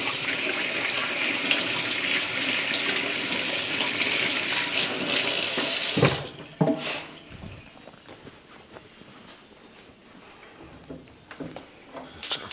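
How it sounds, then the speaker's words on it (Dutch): Hands being washed under a running kitchen tap, a loud steady gush of water for about six seconds that stops abruptly, followed by quieter handling clatter and drips. "Even mijn handen wassen."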